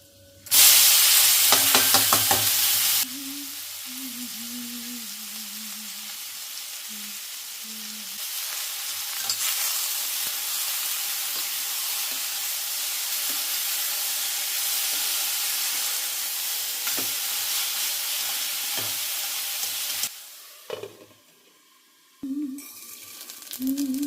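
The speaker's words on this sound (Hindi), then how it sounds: "सबसे पहले मैंने छौंक दिए करेले।" Bitter gourd frying in a little oil in a kadhai: a loud, steady sizzle and hiss that carries on throughout, with occasional stirring clatter, then quieter near the end.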